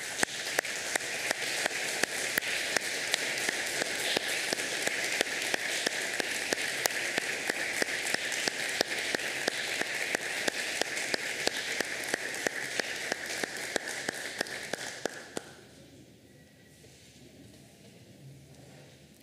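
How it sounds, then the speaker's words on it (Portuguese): Warm applause from the audience at a municipal council session honouring a newly named square, dense steady clapping for about fifteen seconds before it abruptly stops, leaving a quiet room. "eu gostaria de solicitar uma calorosa salva de palmas pela história e memória"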